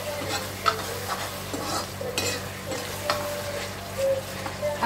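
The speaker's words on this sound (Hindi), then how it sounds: "इन सारे मसालों को मिक्स करना है।" A spoon stirs and mixes spices with Schezwan chutney for soya chaap gravy, scraping and clinking rhythmically in the pan over a soft frying sizzle, close and fairly loud.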